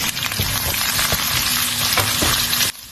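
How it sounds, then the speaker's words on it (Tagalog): Chopped onions fry in hot oil in a pan, a loud, steady sizzle with faint stirring scrapes running unbroken for nearly three seconds before cutting off. "At pagkainit ng mantika ay pinirito natin tong sibuyas."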